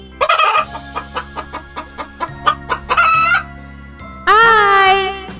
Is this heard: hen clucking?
yes